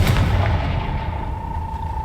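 A Confringo spell blast in the Hogwarts Legacy video game booms out loud and close, followed by a rumbling, crackling decay and a steady ringing tone that lingers to the end.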